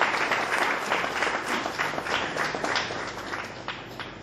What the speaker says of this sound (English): Ladies and gentlemen, give a big round of applause for Mr.